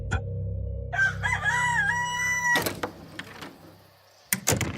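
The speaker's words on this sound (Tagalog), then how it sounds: "tumilaok na lamang ang mga manok" A rooster crows loudly and close, a long rising and falling call, followed by clattering and knocking noises with brief sharp thuds near the end.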